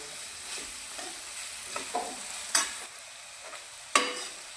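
Vegetables for a porridge (dalia) pulao cook in a pan, a soft sizzle running under repeated scraping stirs and a couple of louder clanks against the metal.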